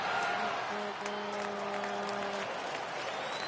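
At a baseball game, a crowd in the stands cheers and applauds steadily from start to finish, with a sustained tonal note held over the roar for part of the clip and a broadcaster's voice running underneath.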